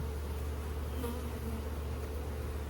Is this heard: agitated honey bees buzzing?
yes